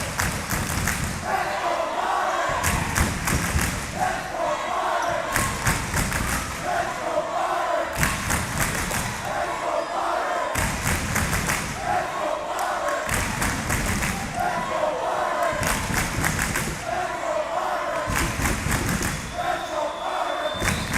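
A crowd cheers loudly in a high school gym during a boys basketball game between Lyford and Hidalgo, a dense, sustained roar that swells in repeated waves with voices mixed in.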